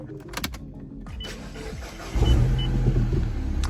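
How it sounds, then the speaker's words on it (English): An R56 Mini Cooper S engine cranks and catches about two seconds in, settling into a steady, fairly loud idle rumble inside the car after brief preceding clicks and rustle. "So let me just start the car."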